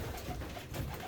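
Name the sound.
pigeons cooing in a loft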